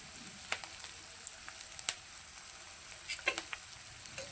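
Chickpea greens tossed into a pan with fried green chillies give a quiet, steady sizzle, broken by scattered sharp pops and crackles.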